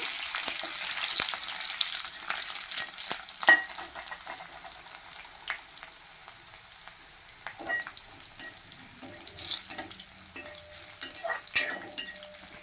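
Continuous crackling sizzle of garlic and dried chilies frying in oil, with occasional stirring clinks and scrapes, close and fairly loud throughout.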